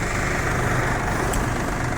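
A 20-horsepower four-wheel-drive Yanmar F195 diesel tractor runs steadily nearby, a continuous low, rough engine drone with no pauses.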